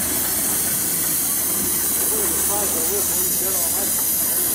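A 1950 Case steam traction engine at a pioneer engineers' parade gives off a loud, continuous steam hiss close by, with faint voices and background sounds beneath it.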